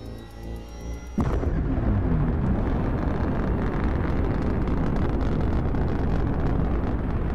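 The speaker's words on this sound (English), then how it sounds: "The engine is starting up." An engine starts up with a sudden loud roar after a brief low hum, then settles into a steady, dense rumble that stays loud and continuous to the end.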